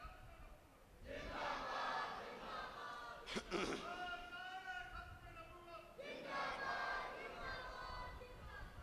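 A crowd at a Muharram religious gathering shouts a slogan in unison, a loud massed roar of voices that rises, dips briefly and swells again, with one sharp burst in the middle; distant-sounding and filling the whole stretch.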